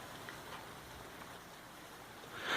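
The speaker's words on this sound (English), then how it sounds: "Shouldn't be this rainy." Rain falls steadily at a lakeside vacation spot, a soft, even hiss that swells slightly at the end.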